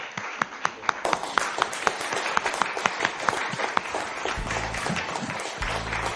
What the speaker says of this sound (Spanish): Den un fuerte aplauso